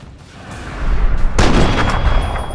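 A sniper rifle gunshot in Fallout 3 bursts out loud and broadband partway through, after a quieter ambient stretch, and its rumbling tail sustains to the end.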